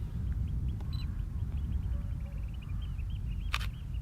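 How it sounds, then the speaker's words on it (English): A mechanical camera shutter fires with a single sharp, crisp click, standing out briefly against a steady low background hum with faint chirps. "That was the sound of a shutter,"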